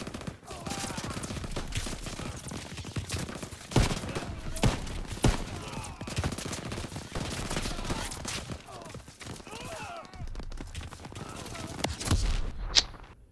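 Enemy gunfire in a Call of Duty WWII D-Day battle, dense rapid bursts of rifle and machine gun shots cracking almost without pause, with loud battle noise throughout.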